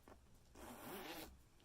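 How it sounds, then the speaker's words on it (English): The front zipper of a Mina Baie Harper mini diaper bag is run smoothly across in one steady, quiet pull, preceded by a brief tug, with no voices. "The zipper at the front runs all the way across really nicely and smoothly"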